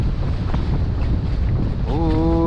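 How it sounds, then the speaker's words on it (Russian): Strong wind buffets the microphone out on a frozen river during spring ice fishing on the Pechora, a loud continuous rumbling roar, with a brief tonal whine near the end. "Ой, ветер, ветер, ветер."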